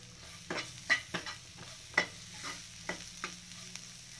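Onions frying in a pan for Rajasthani kachori filling are stirred with salt, giving irregular scraping strokes over a faint steady sizzle, close and quiet, with no talking.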